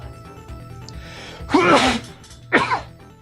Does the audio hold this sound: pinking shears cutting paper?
no